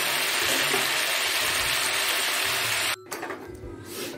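Beans being stir-fried in a pan: a loud, dense, continuous sizzle close by that cuts out abruptly near the end, leaving softer scraping and stirring.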